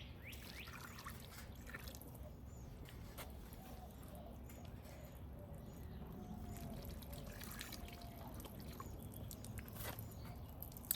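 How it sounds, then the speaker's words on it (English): Water pours and trickles onto potted moringa trees outdoors, a soft continuous splashing with faint drips and occasional birdsong in the background. "So we're gonna take this, I'm gonna start watering them."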